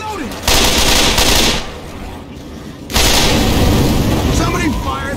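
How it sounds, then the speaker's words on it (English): Loud, rapid bursts of heavy cannon fire in the video game Dying Flame, two long volleys separated by a quieter stretch, with voices faintly underneath. "Somebody fire the goddamn cannon!"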